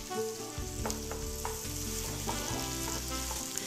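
Stir-frying in a large sauté pan, a steady loud sizzle with repeated scraping and tossing strokes from the stirring, close up and continuous with no talking.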